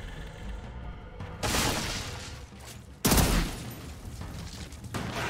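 Gunfire in a shooter video game, with dense bursts of loud firing and explosive booms erupting twice over a constant noisy game backdrop, no talking.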